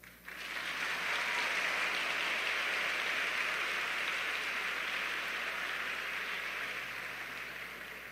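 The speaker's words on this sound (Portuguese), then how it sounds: "Essa era a hora das palmas" Church congregation bursting into loud, dense applause that starts abruptly and holds steady as a hiss-like wash of many hands, tapering slightly toward the end.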